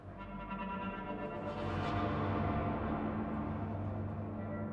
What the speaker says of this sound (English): But I want the whole thing reverby.